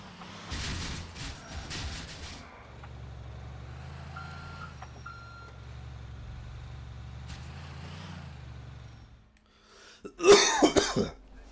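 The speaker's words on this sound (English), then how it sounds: "Sorry, I got a cough problem." A person coughs during Grand Theft Auto IV gameplay: a short burst of harsh, close coughs and throat clearing near the end, after a stretch of game noise with a truck's reversing beeps and engine hum.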